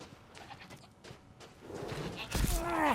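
A goat bleats in the Resident Evil Village video game, a wavering cry rising near the end over game noise and someone talking.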